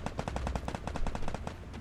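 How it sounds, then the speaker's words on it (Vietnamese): Rapid automatic gunfire from the Free Fire battle royale game, a fast rhythmic burst of a dozen or so sharp shots in quick succession, loud and unbroken. "Mình nghe tiếng súng của đứa ở trên cơ"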